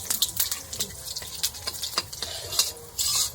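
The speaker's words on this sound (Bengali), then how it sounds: "আছে জিরে শুকনো লঙ্কা আর হচ্ছে তেজপাতা তেলে দিয়ে দিলাম" Cumin seeds, dried chillies and bay leaves fry in hot oil, giving close, irregular crackles and sharp pops that spatter quickly over a faint sizzle.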